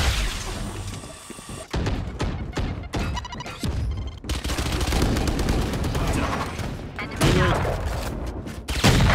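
Shotgun fire in a Valorant attacker-versus-defender match, loud and nearly continuous, with heavy blasts and booming impacts packed densely throughout.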